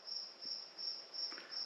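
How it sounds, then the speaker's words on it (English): A cricket chirps in a steady high-pitched trill outdoors in the early morning, pulsing in a regular rhythm, faint and close, with no talking. "I have a cricket joining me this morning."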